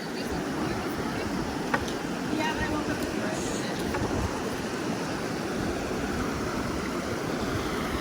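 Rapid river water rushing through the Zion Narrows, a steady broad roar of flowing water close by with light wind noise and no talk over it.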